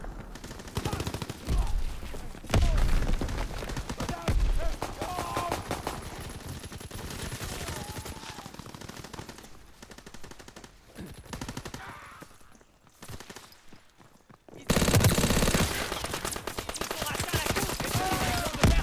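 Sustained automatic gunfire from a World War II–era machine gun in the first-person shooter Call of Duty: WWII, loud dense bursts running through most of the stretch with a brief lull before a heavy burst resumes.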